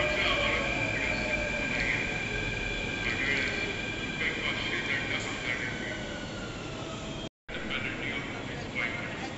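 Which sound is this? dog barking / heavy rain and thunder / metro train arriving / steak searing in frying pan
metro train arriving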